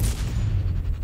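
A sniper rifle shot in the video game Sniper Ghost Warrior Contracts 2, a loud deep boom at the start that rolls into a low rumbling tail through the whole second.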